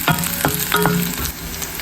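Garlic and chili sauté in a pan for garlic chutney, with a steady close sizzle broken by several sharp scrapes and clinks of stirring.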